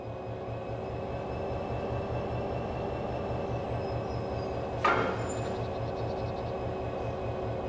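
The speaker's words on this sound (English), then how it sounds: "Now couple the locomotive to the freight wagons." In the Train Sim 3 video game, a locomotive couples to freight wagons: a steady rumbling, clicking engine drone runs throughout, broken by one sharp metallic clank of the coupling partway through, with no talking.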